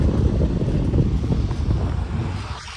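Steady wind blows outdoors near a shop on a cloudy, rain-threatening evening, a loud, continuous low rumble and buffeting against the microphone with no voices.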